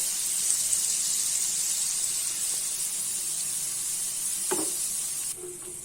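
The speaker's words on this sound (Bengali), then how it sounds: "1 মিনিটেই এগুলো ভেসে উঠবে, ভাজা হয়ে যাচ্ছে" Small boondi drops for motichoor laddu sizzle in hot oil with a constant bright hiss, steady and fairly loud, with a brief stir or clink near the end and no voices.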